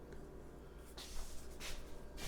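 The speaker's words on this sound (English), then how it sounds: "I'm gonna oil up my loaf pan with an avocado spray oil." Avocado oil spray hisses briefly from a can into a loaf pan, two short soft bursts close by against a quiet room background.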